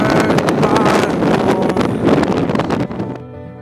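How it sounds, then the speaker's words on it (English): Strong gusting wind buffets the microphone on an exposed mountain peak near Bozeman, a loud broadband roar that drops off sharply near the end, leaving a quieter hum. "It is windy as hell out here"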